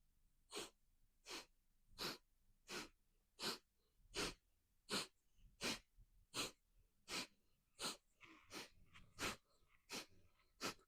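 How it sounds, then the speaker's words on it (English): A person doing a seated chair yoga twist pushes out sharp, forceful breaths through the nose, about fifteen quick huffs at a steady pace of roughly one every 0.7 seconds, close and fairly soft. "I'm going to do some sharp exhales out of my nose."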